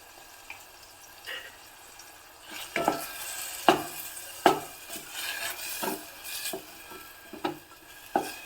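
Tomatoes with salt are stirred and mashed in a pan, giving soft intermittent scraping and squelching knocks over a faint sizzle, fairly quiet and irregular without speech.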